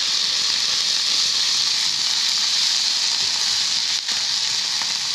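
Ginger paste fries in hot oil in a pan, giving off a loud, even, continuous sizzle that holds steady throughout with one brief dip.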